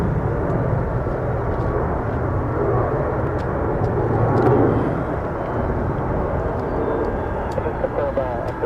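An Alaska Airlines jet, flight 411, taking off from runway 2 at Nashville International Airport, a loud steady engine roar that swells slightly midway, heard alongside radio chatter between tower and pilots.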